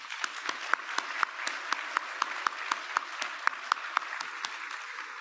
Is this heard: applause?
yes